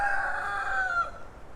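A rooster crows once, long and clear, in a garden, its call drawn out for about a second before fading into soft outdoor background noise.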